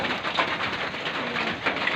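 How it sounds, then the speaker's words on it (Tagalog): Steady rain falls continuously with a dense, hissing patter and no pauses, fairly loud and close. "So, nagsimula yung ulan. Hanggang ngayon, hanggang ngayon, mga alas 5 na."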